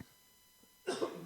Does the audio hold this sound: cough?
yes